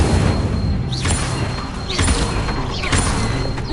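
Incendio fire spell cast in Hogwarts Legacy, loud whooshing fiery bursts repeating roughly once a second over a dense rumbling game background, three distinct blasts with swooping tones.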